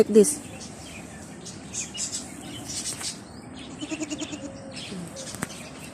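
Goat bleats at an outdoor animal area in Long Beach, with short cries early and a run of rhythmic bleats near the end, mixed with birds chirping and people talking nearby.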